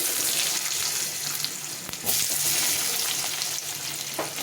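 Potatoes fry in hot oil with green chilli, cumin and bay leaf, a busy close sizzle and crackle with a sharp clatter near the middle and a brief louder burst soon after, no speech.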